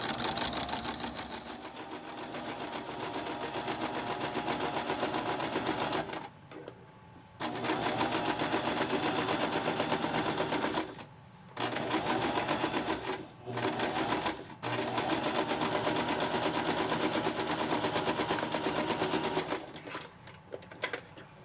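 Sewing machine with a stitch in the ditch foot stitching a single-layer cotton face mask using 40-weight quilter's thread, a steady fast mechanical whirr that stops and restarts several times in short breaks.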